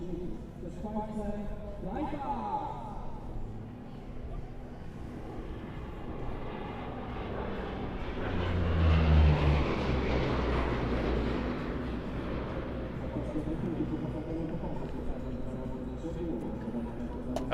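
A Polish Air Force C-130E Hercules turboprop performs a display at an airshow, its deep engine roar swelling as it climbs past and then fading, heard at a distance under continuous commentary.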